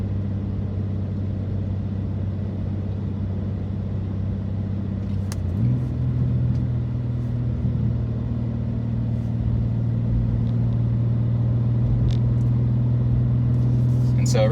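A 2024 BMW M2 with manual transmission driving slowly around a bend to warm up, a steady low engine drone and road rumble throughout, with a slight rise in pitch midway as it pulls along.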